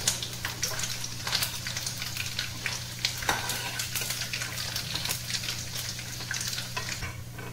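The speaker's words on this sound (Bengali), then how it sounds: "নারকেলগুলো একটু ভেজে নিলাম" Coconut pieces sizzle and crackle as they fry in a pan, a steady close frying hiss with scattered pops and occasional stirring scrapes, no voices.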